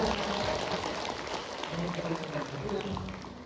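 Audience applause for a participant named Alena during a workshop session, a dense, continuous wash of clapping filling the room for a few seconds with faint voices mixed in.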